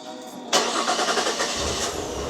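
A car engine cranks and catches after a fuel pump replacement, bursting on abruptly and settling into a steady, loud idle nearby.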